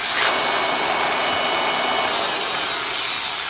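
An old DeWalt electronic polisher runs at slow speed, giving a steady, close, loud whirring hum that holds nearly even throughout.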